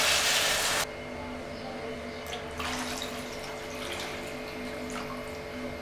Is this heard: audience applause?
no